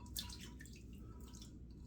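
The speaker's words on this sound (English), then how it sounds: "We're going to add a little bit more water just because." Water trickles and drips into a bowl of Declaration Grooming Trismegistus shaving soap lather, a close, soft splashing lasting under two seconds with no talking.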